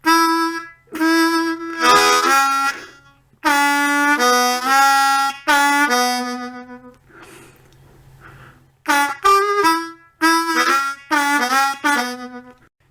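Blues harmonica playing the opening section of a song, bright reedy phrases in several bursts separated by short pauses, close and loud, with bent notes and a soft buzzing undertone.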